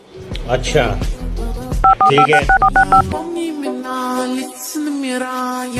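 A quick series of telephone keypad tones, about eight beeps, sounds between stretches of speech. People talk before and after the dialing.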